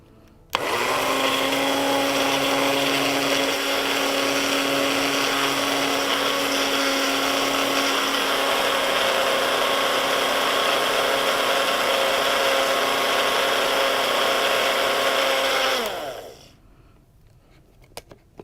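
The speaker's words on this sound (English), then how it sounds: "You're going to turn on your blender." A kitchen blender blending aloe gel whirs loudly and steadily for about fifteen seconds, then spins down and stops, leaving quiet with a couple of small clicks.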